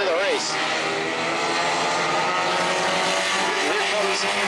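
A bomber-class stock car laps the New Smyrna racetrack during qualifying, its engine droning loud and steady with pitch rising and falling through the corners, while a commentator talks over it.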